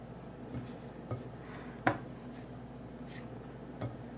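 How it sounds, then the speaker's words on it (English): Crab cake mixture is stirred gently in a bowl with a spoon, producing a few light, spaced clinks and soft squishy scrapes at close range. "I'm just going to give this a gentle mix."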